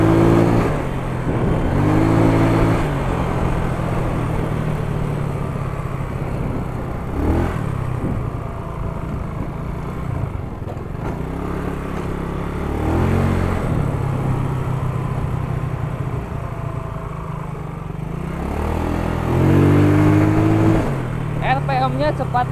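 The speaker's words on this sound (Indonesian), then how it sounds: "RPM-nya cepat naiknya guys, mantap banget akselerasinya." A Yamaha Mio 130cc motor scooter engine revs and accelerates hard during a top-speed test ride, with a steady close engine drone and rising pitch sweeps, while someone talks over it throughout.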